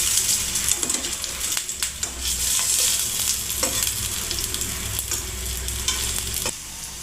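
Carrot poha tikki patties frying in hot oil in a pan, a steady close sizzle and crackle with occasional soft stirring or turning clinks, no talking.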